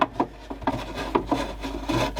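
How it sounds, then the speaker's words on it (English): Rhythmic scraping and squeaking from unscrewing screws on a damaged Aiwa CA-W75 boombox, several short rasping turns repeating closely, with no talking. "let's get the rest of the screws out"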